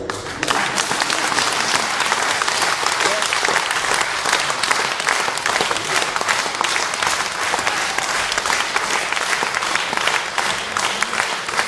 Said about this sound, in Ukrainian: можна плескати